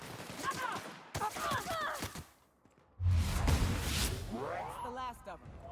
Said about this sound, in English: I kind of want to try this flamethrower out too, though.